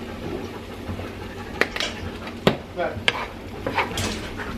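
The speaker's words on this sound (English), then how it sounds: "we're just going to stir these around until they are nice and sauteed up" Cube steak stirred and sautéed in a pan, giving a soft, steady sizzle broken by several sharp clinks and scrapes of a utensil against the pan, close and fairly quiet.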